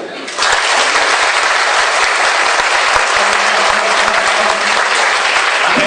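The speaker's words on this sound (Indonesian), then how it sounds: "tolong Bapak Ibu tepuk tangan dulu." A seated seminar audience breaks into loud, dense hand clapping after a short quiet start, a thick continuous wall of applause that holds steady to the end with a faint murmur beneath.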